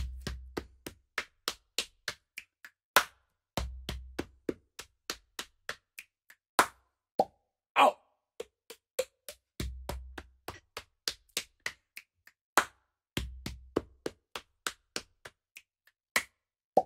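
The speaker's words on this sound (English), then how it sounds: "Body percussion rhythms are sound sequences that are repeated over and" Body percussion rhythms from a workshop: sharp claps, snaps and slaps repeat in steady four-beat sequences, with a deep thump opening each bar, crisp and close with no talk.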